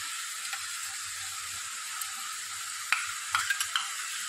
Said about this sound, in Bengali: মশলাটা কষা হয়ে এসছে, আমি এবার দইটা দিয়ে দিচ্ছি।